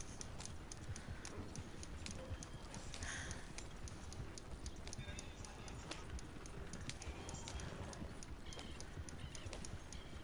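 Horse hooves clip-clop steadily in Red Dead Redemption 2 Online, a continuous busy rhythm mixed with ambient game noise and faint bird calls, with a voice talking over parts of it.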